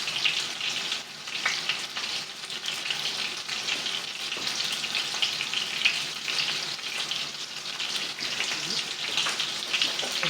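Chicken pieces for restaurant-style chicken française fry in a hot pan, giving a steady, dense sizzle and crackle that holds close and loud throughout with no talking.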